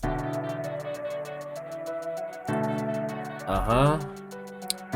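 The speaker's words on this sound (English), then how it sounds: "then the hi-hats will sound like this" Fast, even hi-hat ticks run over a beat with sustained synth tones, the hits alternating louder and softer in a steady pattern.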